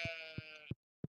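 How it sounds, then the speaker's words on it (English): A sheep from the Stardew Valley farming game gives a short bleat followed by a few clipped blips, all isolated and fairly quiet. "Here's our sheep."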